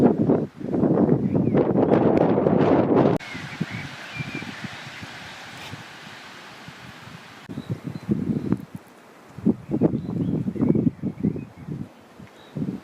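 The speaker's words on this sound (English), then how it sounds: "You can hear the wind getting up there, but it's not cold at the moment." Evening wind blowing outdoors beside a south-facing orchard, a steady broadband rush that gusts in loud bursts at the start and again toward the end, easing to a softer breeze in the middle.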